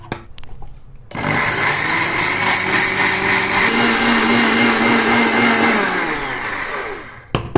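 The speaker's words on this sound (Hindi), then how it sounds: "सौंफ थोड़ी सी हार्ड होती है तो इसको ज़्यादा देर तक आपको ग्राइंड करना होता है।" An electric grinder whirs loudly and continuously for about six seconds while grinding hard fennel seeds into powder, its high motor whine shifting in pitch as the seeds break down, then spins down to a stop.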